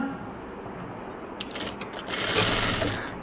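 Sewing machine stitching along the edge of blouse fabric: a soft mechanical hum, then a brief clatter and a louder, steady run of stitching near the end, close and without talk.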